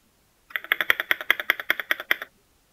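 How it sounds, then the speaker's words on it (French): About a dozen sharp clacks of a keyboard space bar in quick, regular succession, close and crisp, then silence. "Au niveau du bruit, ça, c'est la touche espace."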